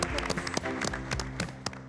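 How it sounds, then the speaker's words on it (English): Faint, scattered clapping from miniature-building contestants, heard under background music with sharp distinct claps rather than a full crowd. "Hands up and give yourselves a round of applause."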